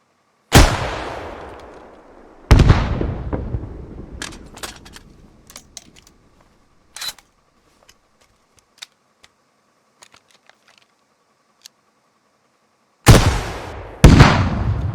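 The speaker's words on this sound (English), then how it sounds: "The launcher also fires a deadly backblast, so make sure your rear is clear before firing." A rocket launcher fires in the military video game Squad: loud, sharp blasts with long rumbling tails, two near the start and two near the end, separated by near silence with scattered faint clicks.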